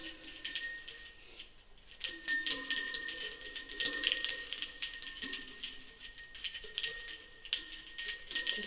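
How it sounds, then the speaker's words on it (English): Small bells ring repeatedly in a bright, shimmering cluster of high tones, overlapping and sustained in an echoey room, close and moderately loud with no speech. "So I'm just going to ring the bells to clear."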